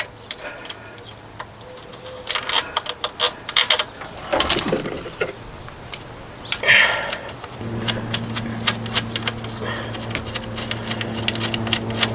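Ratchet tightening the battery post connection on the alternator of a 2003 Dodge Ram 1500 with a 5.7L Hemi, giving bursts of quick close clicking and mechanical ticks, with a low steady hum in the background.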